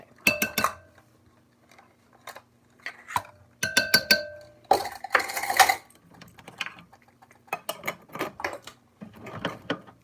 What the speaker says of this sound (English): Put the lid back on tightly so that the ants won't want to come and get it.